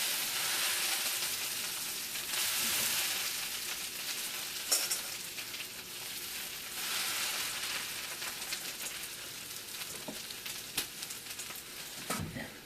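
Kale cooking down in a frying pan makes a soft, steady sizzle and crackle throughout, with a few faint clicks and stirring sounds and no talking.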